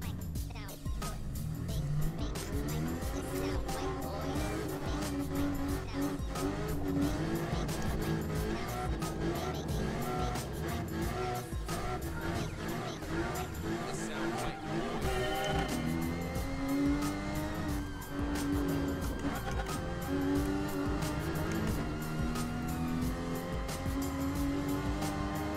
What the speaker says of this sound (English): You hear some of these guys, they're just revving it up.